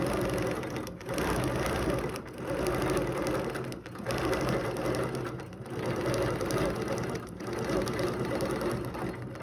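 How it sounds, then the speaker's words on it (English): A sewing machine stitches a quilt along a ruler, a steady, close mechanical whir in several bursts of a second or two each, separated by brief pauses, with no speech. "I'm just going to stitch up, back to my peak"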